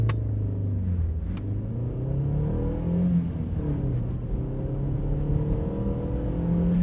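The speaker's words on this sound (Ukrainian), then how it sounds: "І скільки ж секунд ця тачка їде до сотки." A Volkswagen Passat B5 accelerating hard toward 100 km/h on a real road, heard from inside: a loud, continuous engine drone rising in pitch through the gears, with a few short clicks near the start.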